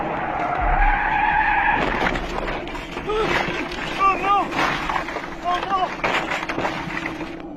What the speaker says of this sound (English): He was going too fast to make that sharp of a turn, resulting in a loss of control. He was left skidding towards the edge